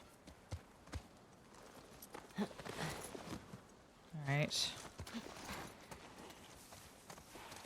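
Horse hooves clip-clop across ground in The Last of Us Part II, irregular near steps with a louder scuffing stretch midway, while someone talks briefly over them.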